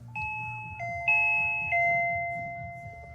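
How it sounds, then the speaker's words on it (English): The indoor chime of a SwitchBot video doorbell rings loud and clear: several descending electronic ding-dong tones, each ringing on briefly before the last fades, with no voices. "that indoor chime is up to 100 decibels and is pretty loud."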